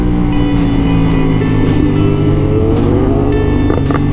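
A BMW S1000R 1000cc motorcycle engine runs loud and close, its droning harmonics shifting with the revs, broken by several sharp popping backfire cracks.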